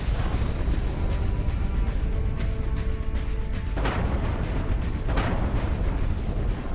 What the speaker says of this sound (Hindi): बमबारी से तबाह होते शहर।